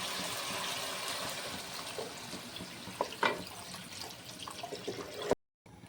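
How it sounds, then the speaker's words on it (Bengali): Water pours into a pan of chicken kofta curry masala cooked down with tomato paste, a steady close splashing rush lasting several seconds, with a few clinks before it cuts off abruptly. "আর এখন দিয়ে দেবো কিছুটা জল।"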